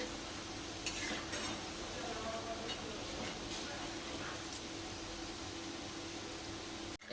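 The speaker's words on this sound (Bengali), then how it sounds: "এরকম করে নিমকি ভাজা" Nimki, a Bengali savoury snack, frying in hot oil: a steady, close sizzle runs throughout with occasional stirring clinks against the pan.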